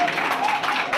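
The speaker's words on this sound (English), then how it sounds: "give them a round of applause for this performance" Audience applause at a university debate on the death penalty after the student performance, a short dense burst of clapping with murmured voices mixed in.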